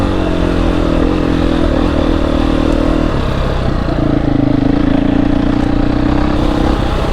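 A motorcycle ridden solo on a road drones loudly and close, a steady engine note with a brief shift in pitch midway as it changes gear, plus wind rush throughout.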